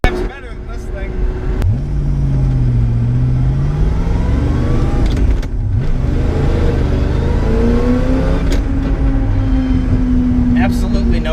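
A V8-swapped Porsche 911 revs and accelerates, its engine note rising and falling through several pulls, loud and close, with people talking over it.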